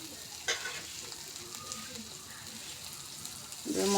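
Water splashed into frying spice masala with ginger, garlic and onion for a country chicken curry, a steady close sizzle with a brief burst near the start and a louder hiss rising at the end.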